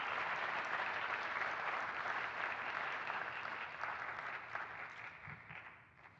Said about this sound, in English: can we have a round of applause for both of our special guests?